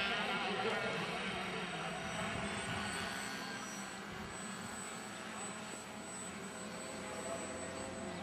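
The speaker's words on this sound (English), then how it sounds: "I can hear a plane coming." Distant airplane droning steadily at a model aircraft field, a continuous engine hum that rises slightly over several seconds amid outdoor background noise.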